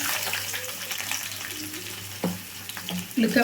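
Chopped onion fries in heated oil while a coriander chutney is made, giving a steady close hiss and sizzle with a few sharper stirring clinks toward the end. No voice is heard.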